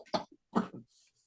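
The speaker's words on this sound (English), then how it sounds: "Did you cough up a lung?" Two quick, close coughs in a podcast conversation, short harsh bursts separated by a brief pause, followed by faint breathing.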